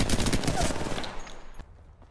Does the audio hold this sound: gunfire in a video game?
yes